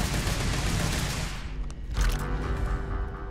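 Dense rapid gunfire in the video game Starfield, a thick roar of overlapping shots that thins briefly then swells again with a heavy burst, loud and continuous.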